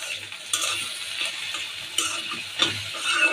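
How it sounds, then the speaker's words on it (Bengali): A vegetable bhaji frying in a pan with turmeric and chilli powder: a soft, low sizzle runs throughout, broken by several sharp spatula scrapes and stirs, quiet and close, with no talking. "এই জন্য আমি এখন একটা ভাজি করে নিচ্ছি।"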